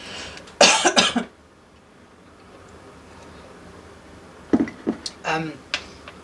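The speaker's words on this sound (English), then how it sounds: "I'm gonna cough again." A burst of harsh, close coughing, then quiet, followed by a few more short coughs and throat sounds.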